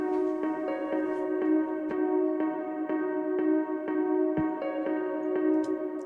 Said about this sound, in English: The next thing we have here is our intro piano that sounds like this